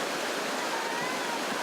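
Whitewater rapids on a canoe-kayak slalom course among waves and rocks, a loud, steady, close rush of churning water with no voices.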